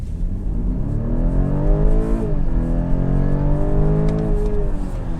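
A BMW X3 xDrive 30e plug-in hybrid SUV accelerating hard in Sport mode, heard from inside as a loud rising engine drone that climbs in pitch, drops at a gear change and climbs again, with no talking.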